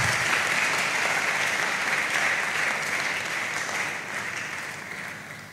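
A church celebration crowd claps loudly and continuously, a dense wash of applause that fades slightly toward the end.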